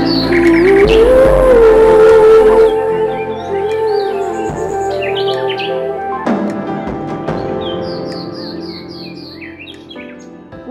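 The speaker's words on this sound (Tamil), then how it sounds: "கீச் கீச் என்ற சத்தம் பலருக்கும் பரிச்சயம். அவைதான் சிட்டுக்குருவிகள்." House sparrows chirping: short bursts of high chirps come in clusters over a sustained musical backdrop, fairly faint against it.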